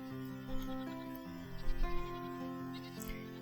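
A goat in the farming game Farm Manager 2021 lets out a few short, wavering bleats, faint and fairly close, over a quiet game background.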